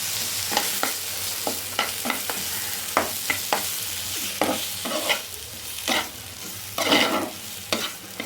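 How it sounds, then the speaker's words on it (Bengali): Garlic and green chili pickle being stirred in a pan with vinegar, a spatula scraping in irregular close strokes over a soft sizzle, with no talking. "আমি আরও এক মিনিট একটু নাড়াচাড়া করে নিচ্ছি"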